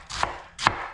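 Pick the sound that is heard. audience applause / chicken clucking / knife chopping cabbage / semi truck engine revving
knife chopping cabbage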